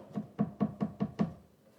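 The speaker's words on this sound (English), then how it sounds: "first we chop our apricots really finely." A knife chops dried apricots finely on a board, six evenly spaced dull taps in quick succession, close and clear with no talking.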